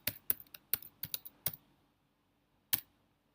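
Python code is typed on a computer keyboard in a quick run of sharp, close key clicks, then a pause and one final keystroke in a quiet room.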